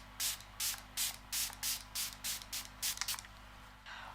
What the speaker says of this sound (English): I'm going to spray my Dialba because I just want to